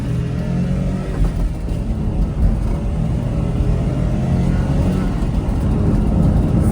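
A small car with power steering is driving along. A loud, steady engine rumble and road drone fill the cabin throughout and swell slightly as it goes.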